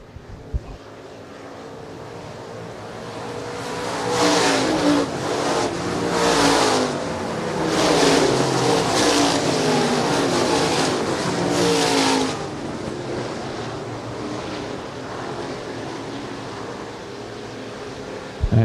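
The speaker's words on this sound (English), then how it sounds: "Cade Richards now goes underneath Blessington" Stock cars race at Shelby County Speedway, their engines roaring and swelling as they pass, then fading to a steady distant drone, with wind noise on the microphone.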